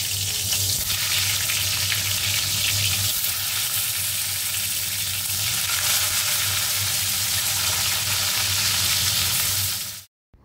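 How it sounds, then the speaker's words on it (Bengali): Slices of pointed gourd (potol) fry in hot oil with a dense, steady sizzle, loud and close, with no talking, before the sound cuts off abruptly at the end. "তারপর পটলগুলো একটু হালকা ভেজে তুলে নিই।"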